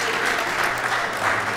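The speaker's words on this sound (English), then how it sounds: "I want to clap for the women." Wedding audience applauding the women, a dense, loud burst of continuous clapping from a crowd that holds steady throughout.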